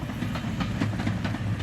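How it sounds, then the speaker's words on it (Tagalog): A train rolls past with a steady low rumble and faint rhythmic clatter of wagons, close and continuous with no voices, as a sound effect of a train pulling in and stopping in a Tagalog horror story. "Nang huminto ang tren sa harap ko,"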